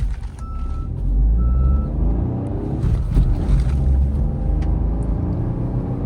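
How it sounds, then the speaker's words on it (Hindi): A Maruti Swift Dzire car running on CNG accelerates, its engine rumble rising and holding strong in the cabin, with a few short beeps and clicks over the steady drone. "गाड़ी CNG में भी अच्छा खासा पिकअप दिखा रही है"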